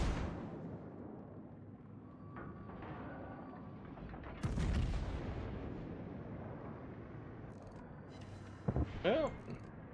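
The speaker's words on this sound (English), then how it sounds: "Quick, AA guns!" Anti-aircraft guns firing in the World of Warships naval game, heard as muffled, distant booms and rumbling blasts, with a sharper cluster of shots near the end.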